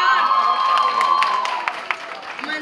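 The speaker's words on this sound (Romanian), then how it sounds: "Aplauze, mă rog!" Applause and cheering from a crowd at a high school Movie Stars themed ball, with a sustained tone and voices over it, followed by scattered sharper claps toward the end.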